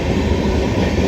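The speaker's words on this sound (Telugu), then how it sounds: "ఈ ట్రైన్ వచ్చేసి షాలిమార్ టు హైదరాబాద్" Shalimar to Hyderabad train 18045 passing through Charlapalli Railway Station, a dense, loud, continuous rumble of rail cars close by with light wheel clatter.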